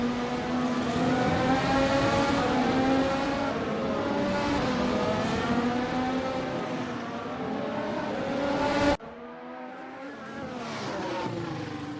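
Race cars, one of them a blacked-out Ferrari, head into turn 1 at Palmadera with a loud, sustained engine drone and shifting pitch. The sound cuts abruptly near the end to a thinner, quieter engine note.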